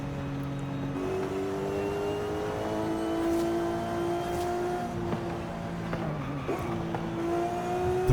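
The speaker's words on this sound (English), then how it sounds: "That exhaust is very, very raspy." A Porsche 911 in the racing game Forza Horizon 5 holds a raspy, droning exhaust note that climbs steadily in pitch, shifts down around the six-second mark, then rises again.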